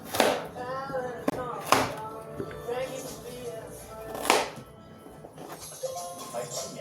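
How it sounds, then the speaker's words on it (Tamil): A knife chops carrots on a board for biryani, giving a few sharp, uneven taps. Someone talks over most of the cutting. "பிரியாணிக்கு கேரட் வெட்டிட்டுருக்கேன்"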